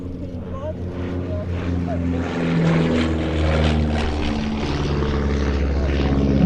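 A twin-engined Miles Gemini light aircraft with Gipsy Major engines flies past at an airshow, a steady propeller drone that swells slightly as it passes at middle distance, with someone talking over it.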